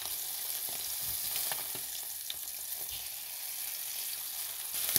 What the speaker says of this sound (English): for really crispy skin, you push your fish down against the pan